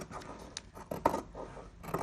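Scissors cut along the edge of a paper sewing pattern, a few short quiet snips and scraping rustles, close and soft with no talk.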